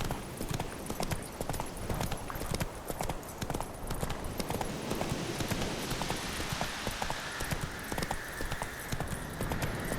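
The horse Roach from The Witcher 3 trots in the game world, hooves clip-clopping in a steady rhythmic beat at moderate distance, with faint ambient background.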